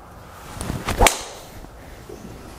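Titleist TS driver striking a golf ball outdoors, one sharp crack of impact after a brief swoosh of the swing, fairly faint against quiet background air.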